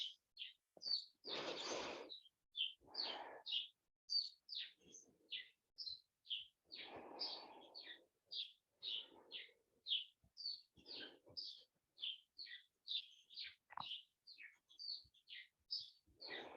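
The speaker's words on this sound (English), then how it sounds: "There is a bird who really has a lot to say this morning." A songbird sings repeatedly from a rhododendron bush on a quiet morning, sending short bright phrases in a steady, insistent rhythm, fairly close and clear against near silence, with a few softer low rustles between calls.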